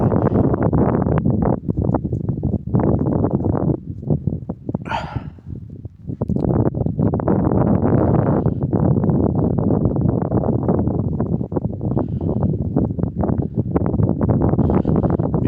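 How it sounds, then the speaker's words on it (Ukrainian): Strong wind roars and buffets the microphone in loud gusts that come and go, with a brief lull partway through. "вітер, як і обіцявся, знявся близько 5 метрів в секунду"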